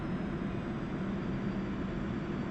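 A Su-25T Frogfoot jet engine in the DCS World flight simulator, throttled back to idle, gives a steady low rumble and whine that stays even and unbroken.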